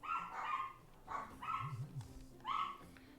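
A dog barking in the Honkai Star Rail video game, several short barks in quick bursts with a low whimpering whine in between, fairly faint under a quiet game background.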